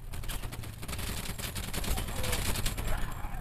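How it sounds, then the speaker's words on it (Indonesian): Rapid gunfire in a PUBG New State / Free Fire battle royale match, a steady dense crackle of shots running through the whole stretch under game ambience. "Anjir, ada yang nembak."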